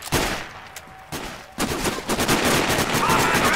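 Gunfire in the Sniper Ghost Warrior video game: a few sharp, loud shots with broadband bursts and echoing tails, close and punchy, mixed into dense game ambience.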